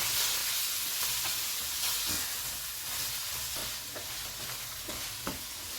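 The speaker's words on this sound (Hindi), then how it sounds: "कीमा डालेंगे। चूल्हे को फुल रखेंगे और इसको 4 से 5 मिनट तक भूनेंगे।" Minced meat frying on full heat with fried onions plus ginger and garlic paste for keema biryani, a steady close sizzle with intermittent scraping stirs every second or so, no voices.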